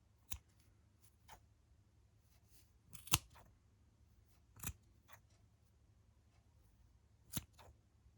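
Several sharp scissor snips cutting yarn, spaced irregularly with quiet pauses between, close and crisp in an otherwise still room.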